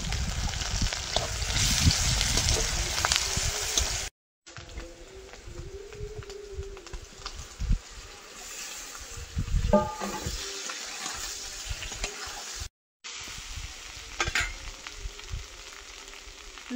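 Chopped onion, crushed garlic and slit green chilli frying together in a pan, a steady close sizzle with occasional stirring clatter and two brief silent gaps.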